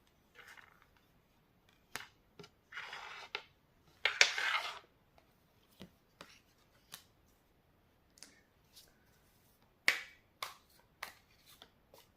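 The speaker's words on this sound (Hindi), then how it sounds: "कार्ड्स निकाल लेती हूँ।" Tarot cards are pulled out and shuffled for a reading, giving sharp crisp snaps and short papery riffles spaced unevenly across a quiet room, close and fairly faint, with no talking.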